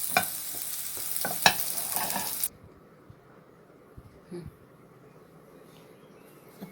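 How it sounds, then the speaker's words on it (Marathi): Patties roasting on a hot griddle, second side, a broad steady sizzle with scraping spatula sounds for a couple of seconds, then cutting off to near quiet with faint small noises. "पॅटीस एकीकडून तयार झालेले आहेत. दुसरीकडून भाजून घेऊ."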